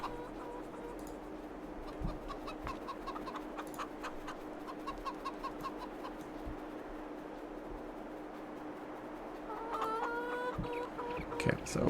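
Chickens clucking in Farming Simulator 22, a soft scattered stream of clucks and peeps over a steady farm ambience, growing busier and louder near the end.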